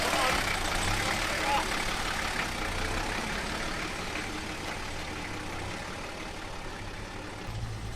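A Toyota Land Cruiser FJ45 driving off-road with a steady, rumbling engine drone throughout, while people talk over it.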